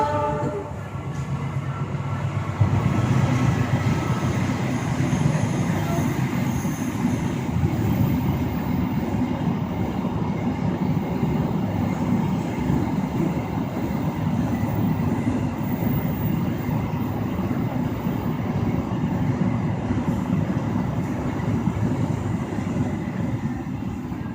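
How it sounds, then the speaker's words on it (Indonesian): A train rumbles past for a long stretch, with rhythmic rattling wheels and a steady roar, loud and close throughout. "Sebentar, ada kereta lewat."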